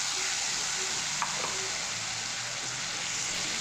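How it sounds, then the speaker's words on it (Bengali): Ginger-garlic paste and ground spice paste frying in hot oil for a rope fish curry, giving a dense, steady, even sizzle throughout, with one brief utensil scrape and no voices. "এবারে মশলাটাকে তেলের উপরে ভালো করে সুন্দর করে আমরা ফ্রাই করে নেব।"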